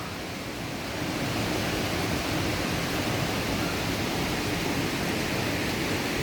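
Cascada Telu waterfall in Tomohon roars nearby, heard from a rest shelter beside it on a slippery trail. A loud, dense, unbroken rush of water swells after the first second and holds steady throughout, with no talking.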